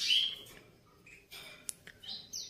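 Caged birds at a bird seller's shop give high, thin chirps and tweets in short bursts, moderately close, over a quiet background.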